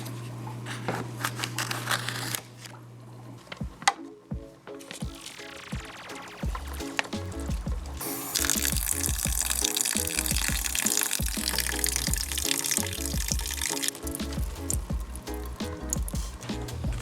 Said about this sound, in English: I'm gonna start by rinsing some eggs and then laying out some mesh.